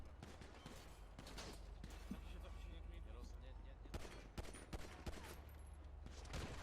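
Rapid volleys of video game gunfire, sharp repeated shots and bursts crackling close and layered over a constant low rumble, with someone shouting over them.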